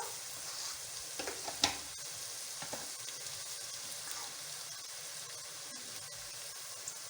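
Spices sizzling and frying in hot oil while being stirred for eggplant bharta, a steady soft crackle with a few sharper pops, close and alone without talk.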